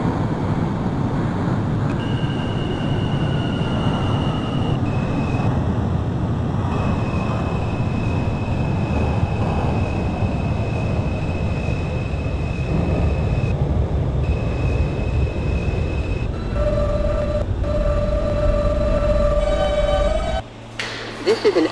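An R160A-1 F shuttle subway train running between Coney Island and Avenue X in the OpenBVE simulator, a continuous loud rumble of wheels and motors with rising and falling electric whine tones, and a brief change near the end.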